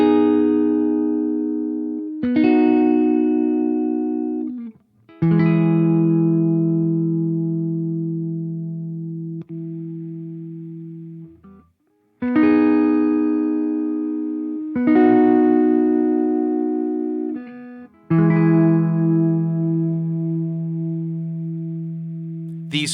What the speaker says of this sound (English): that whole journey is what gives us that kind of lo-fi sound we typically associate with Bucket Brigade